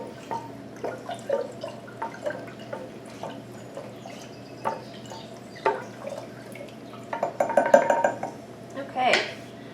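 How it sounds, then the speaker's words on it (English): A spoon stirring pickle brine for refrigerator dill pickles, heard as scattered clinks and taps against a container, irregular and close, with a brief burst of quicker clattering near the end. "Give this a little stir."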